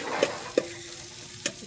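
Chicken for Filipino sinampalukang manok is stirred in a cooking pot, a low simmering hiss punctuated by three short spoon knocks against the pot.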